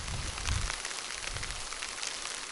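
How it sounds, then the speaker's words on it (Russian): Hail falling outdoors makes a steady, dense patter and hiss that stays fairly even in loudness, with a few low thumps near the start and no voices. "а сейчас уже опять сыпет град"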